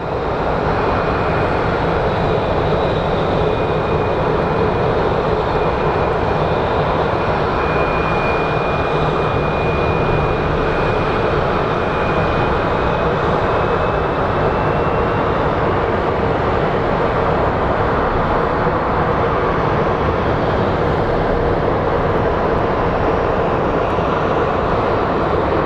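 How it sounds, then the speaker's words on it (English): Small propeller airplane at Phoenix Sky Harbor International Airport, a steady broadband engine roar holding loud and even throughout with a faint high whine drifting across the middle, no voices over it. "it looks like we have another small plane."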